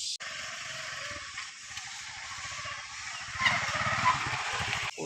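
A motorcycle approaching with a steady, buzzing putter whose engine note grows louder toward the end, against faint background noise and no speech.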